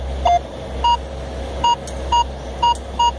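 A Minelab X-terra 705 metal detector sounds a series of short, clear, evenly spaced electronic beeps, about six in quick succession, while sweeping over a buried quarter, with no talking.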